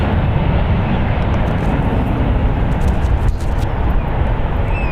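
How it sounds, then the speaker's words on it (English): A SkyWest Airlines Embraer E175 jet departs San Francisco International Airport for Monterey, its engines a loud, steady broadband roar held near and constant throughout, with light wind buffeting. "SkyWest Airlines Flight 5479, going to MRY"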